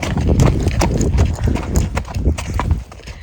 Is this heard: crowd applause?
no